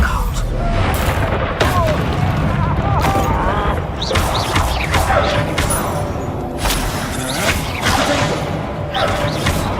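Bombarda blasting spell explosions from Hogwarts Legacy, a dense run of booming blasts, crashes and thuds amid whooshing spell effects, loud and continuous over the whole stretch with game chatter mixed in.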